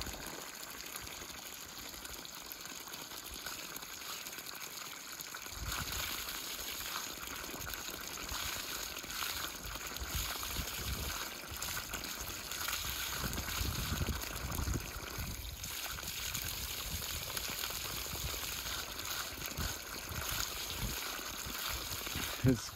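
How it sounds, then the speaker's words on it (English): Water gushing from the pump pipe of a frozen septic tank being thawed, a steady close gush and splatter that grows slightly stronger and fluctuates in flow. "that is what you want to see, water coming out of the pipe"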